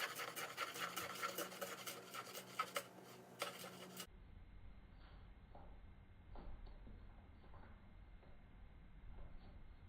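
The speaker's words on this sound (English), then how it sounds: "We'll do a little choppy chop of these guys." Knife chopping fennel on a cutting board in a home kitchen, a rapid series of dry, rasping cuts at first, then quieter, scattered knocks and scrapes of the blade against the board.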